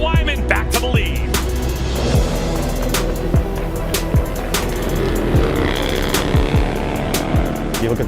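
Harley-Davidson bagger motorcycles race on a track, their engines roaring loud and continuous as they rev up and down through the gears, with rising and falling whines from bikes passing close by.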